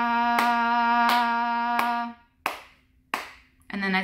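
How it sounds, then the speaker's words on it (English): Sharp claps sound over a sustained tin whistle note, three evenly spaced, then the whistle stops and two more ring out alone with short decays before the whistle returns briefly. "just do it for four claps like that"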